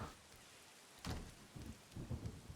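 Rain and rumbling thunder from the video game Sifu, with a steady hiss of rainfall and a loud thunderclap breaking in about a second in, followed by further low rumbles.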